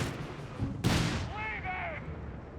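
Thompson submachine gun fire and bazooka rockets in Company of Heroes 3 erupt as one loud, sharp blast partway through, followed by rumbling battle noise and a faint whistling tail.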